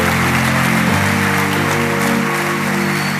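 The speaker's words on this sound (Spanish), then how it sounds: "Este aplauso es para Él." A church congregation applauds during a worship service, a loud, continuous wash of clapping that fills the hall, with a sustained musical tone humming underneath throughout.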